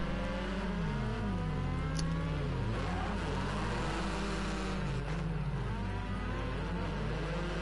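Rally cars race in the Rally Fighters video game, engines wailing and shifting pitch up and down as they drive side by side. The engine noise is steady and fairly loud, with occasional faint clicks and no voices.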